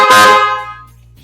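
A single loud, deep PIAA Superior Basshorn car air horn blast, brassy and close, lasting under a second before fading to quiet.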